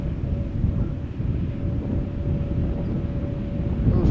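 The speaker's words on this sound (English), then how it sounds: "That was a remarkable noise that those engines make during takeoff" Air Astana Airbus A321 jet engines at takeoff thrust at Amsterdam Schiphol Airport, a loud, steady broadband roar with a faint whining tone, sustained throughout without a break.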